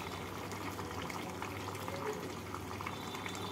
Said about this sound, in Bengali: কাঁচা লঙ্কা দিয়ে মাছগুলোকে ঝোলের সাথে 2 মিনিট ফুটিয়ে নেব।